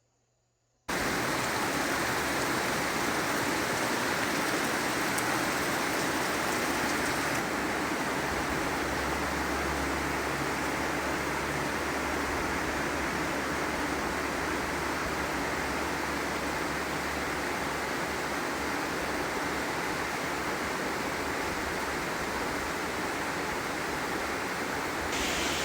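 A heavy nighttime rainstorm in Costa Rica, a dense, steady roar of pouring rain that starts abruptly after a second of silence and continues loud and unbroken, with no voices.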